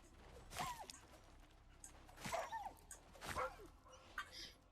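Dogs in the video game Icarus, three quiet bursts of sharp barks and yelps spaced a second or so apart, with a faint whimper near the end.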